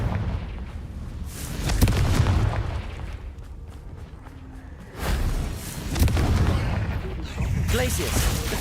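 Confringo fire spells from Hogwarts Legacy go off as several booming blasts in quick succession, mixed with crackling bursts and rumbling combat noise.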